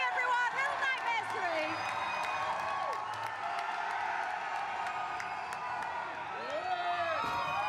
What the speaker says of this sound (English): that crowd is going crazy out there